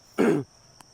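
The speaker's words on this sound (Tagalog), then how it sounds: "Inuubo pa ako." A single short, rough cough or throat-clearing burst, close and fairly loud, followed by quiet.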